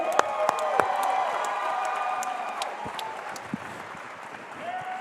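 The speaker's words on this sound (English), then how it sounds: "Let's get a big round of applause for these two." Audience at a cage fighting event applauding and cheering after a bout, a dense wash of clapping with scattered sharp claps standing out, sustained and fading slightly toward the end.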